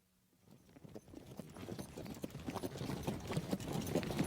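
Hooves of a ridden horse clip-clop in a steady, quick rhythm. The hoofbeats grow louder and closer across a few seconds, with no voices.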